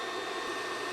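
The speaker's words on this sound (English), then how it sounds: "the fan turns on as soon as you plug it in" The cooling fan of a KKSEVENS KS01 induction heater, used for annealing brass casings, runs as a steady, close airy whoosh with a faint whine and no variation.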